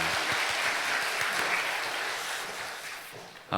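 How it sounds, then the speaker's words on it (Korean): A church congregation at Sunday worship applauds, a dense wash of clapping from a large crowd that holds steady, then fades gradually toward the end before a sudden louder thump. "하나님께 영광 박수 올려드리겠습니다"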